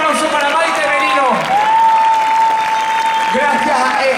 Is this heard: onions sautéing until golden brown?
no